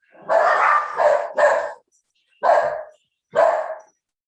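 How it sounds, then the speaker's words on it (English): Dogs bark inside a house, five loud close barks in two quick clusters separated by short pauses. "I have some mad dogs running around the house."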